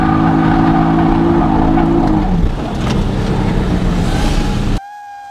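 A Nissan 350Z drifts with a loud, droning engine. The pitch shifts as the revs change, tire and exhaust roar fill the background, and the sound cuts off abruptly near the end.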